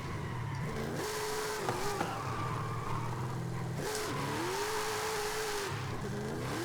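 A boat-like vehicle engine revving in the video game Forza Horizon 5, a steady loud drone rising and falling in pitch as it revs repeatedly, with tire noise underneath and no talking.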